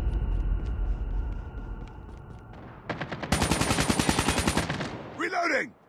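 Call of Duty Mobile Headquarters match on the Terminal map: rapid automatic gunfire bursts crackle loudly after a low rumbling lull, followed by a whooshing in-game effect, with game voice callouts mixed in.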